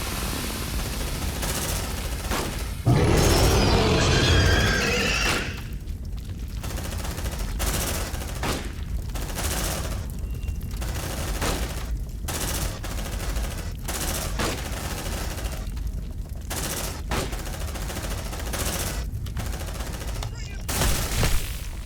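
Gunfire rattles through the Aliens: Dark Descent video game, with a loud dense burst early on and then repeated sharp shots and volleys over a constant rumbling bed, all at close range.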